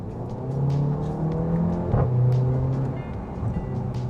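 An Audi TT MK3 quattro engine pulls hard under acceleration from inside the car on a narrow road, its steady rising drone climbing through the gears, loud and continuous.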